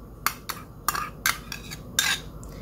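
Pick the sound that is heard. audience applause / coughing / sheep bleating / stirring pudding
stirring pudding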